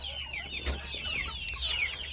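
Young chickens cluck and chirp in a farm pen, with several quick, soft calls spread across a couple of seconds, close by and moderately quiet.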